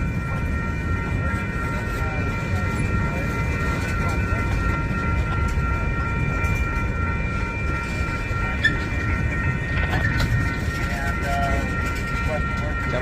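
A freight train rolls slowly past in St Paul, a steady low rumble with sustained high metallic tones from the wheels, continuous and fairly close throughout.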